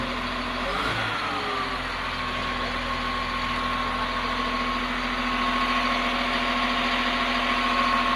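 CAT 950H wheel loader diesel engine settling to a steady idle, with an unstable, misfiring-like running condition: a continuous, fairly loud low drone with a constant hum and a brief rev dip near the start, heard close and alone.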